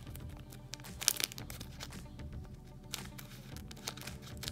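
Close crinkling and rustling of a foil Pokémon card booster pack (Pokémon GO set) being cut open with scissors, sharp snips and tearing bursts, irregular and busy, no talking.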